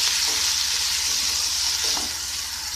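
Potatoes go into browned onions in a hot pan and are stirred through. A loud, dense sizzle runs throughout, with soft scraping stirs partway through.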